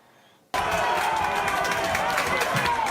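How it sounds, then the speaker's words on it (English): Cleveland football fans in bars giving a mock cheer after their team's tie, a sudden loud crowd roar that cuts in after a brief quiet moment and holds steady to the end. "a Bronx cheer, if you will, as Cleveland fans celebrate perhaps, the losing streak's over"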